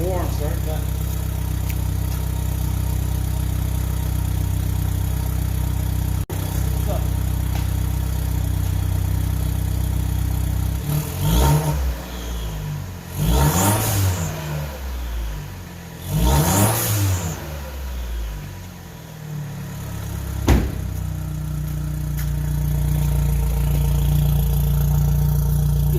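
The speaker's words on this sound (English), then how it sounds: "you can sort of hear the turbo in there a little bit" A Chevy Cruze 1.4T Gen1 turbo engine fitted with a ZZP downpipe and mid pipe idles steadily, then is revved several times in quick bursts before dropping back to idle, with faint turbo whistle.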